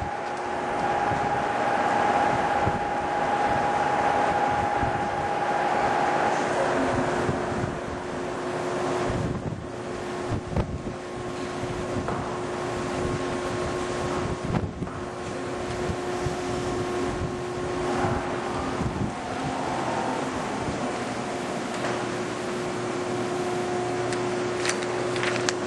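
A Giddings & Lewis 4-inch horizontal boring machine's spindle runs at 210 RPM, a steady low drone with faint tonal whines and a broad wash of machine noise throughout, no one speaking.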